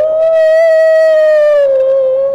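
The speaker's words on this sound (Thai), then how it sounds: "ลองหอนดิฮะลองหอน" A dog gives one long, loud, close howl on command, holding a steady tone before it dips and trails off near the end.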